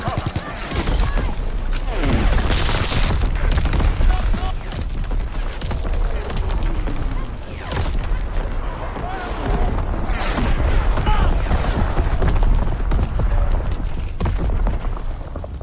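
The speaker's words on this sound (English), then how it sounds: "Incoming enemy artillery!" Heavy artillery shells burst and thunder through a Call of Duty WW2 battlefield, a loud, near-continuous rumble of booms and gunfire layered with shouting voices.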